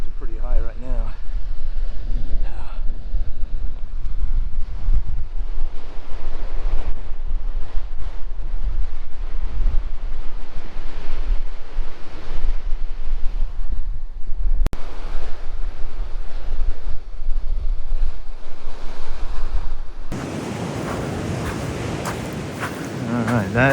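High-tide ocean surf at Punta Gorda Point on the Lost Coast in the King Range, a loud continuous roar of breaking waves mixed with heavy wind buffeting the microphone, then a sudden quieter windy stretch near the end.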